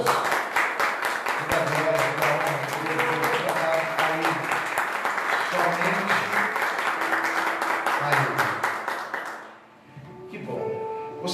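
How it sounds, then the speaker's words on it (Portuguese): A church congregation claps together in a dense, steady burst for several seconds, with some voices under it, before the clapping fades out and a quieter sound follows. "Você pode aplaudir o Senhor Jesus?"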